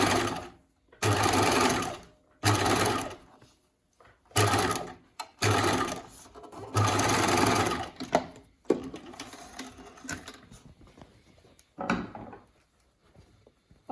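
A sewing machine stitches bias binding onto a V-neck bound edge in several loud, close bursts of rapid whirring, separated by brief pauses and quieter handling noises.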